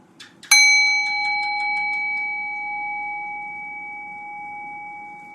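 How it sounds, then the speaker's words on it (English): A meditation bell struck once, ringing with clear sustained tones that decay slowly into quiet over several seconds, with a faint soft tap just before the strike. "Rest your awareness on the sound of the bell."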